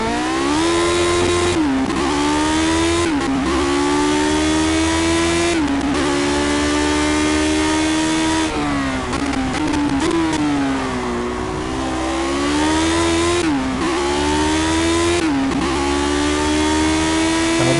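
A modern Formula 1 car engine in the Project Cars racing game screams loud and close, rising in pitch through each gear and dropping sharply on shifts and braking, with several rev cycles and no talk.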